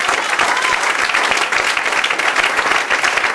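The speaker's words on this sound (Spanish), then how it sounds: "Alguien denle un fuerte aplauso al Señor." Church congregation breaks into dense, loud applause, many hands clapping continuously with no voices standing out.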